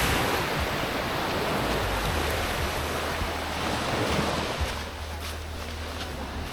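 Sea waves wash and roar steadily close by at a beach in Lobo, Batangas, mixed with gusty wind buffeting the microphone.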